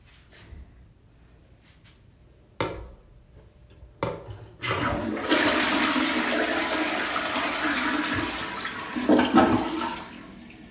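A vacuum toilet, the airplane-style suction system found in a US bathroom, flushes with a loud rushing whoosh that holds steady for several seconds and then ends in a brief surge. A few soft clicks and taps come first.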